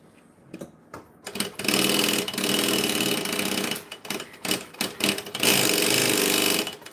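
Sewing machine revving in loud bursts: a couple of short starts, then a sustained high-speed run, several stop-start stutters, and a final long fast stretch, close and without talk.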